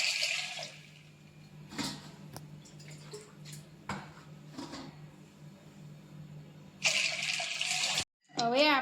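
Water is poured into a bowl holding about one cup of val beans set to soak overnight. Splashing pours come at the start and again near the end, with light clinks and handling noises in between.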